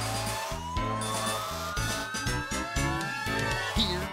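A fire truck siren wails steadily over a busy, rhythmic musical backing with thumping low beats, the rising tone gliding through the whole stretch.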